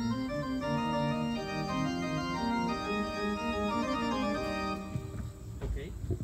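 A pipe organ plays a triple fugue with its subjects combined, dense overlapping contrapuntal lines sustained at full registration that thin out near the end, heard in a reverberant space.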